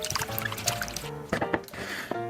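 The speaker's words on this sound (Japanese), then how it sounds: "背わたを取ったら、塩水で洗って汚れを落とし" Shrimp are rinsed in salt water, with splashing, trickling and squishing as they are handled in a bowl, close and fairly loud, with bright clinks mixed in.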